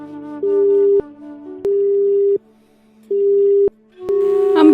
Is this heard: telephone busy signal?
yes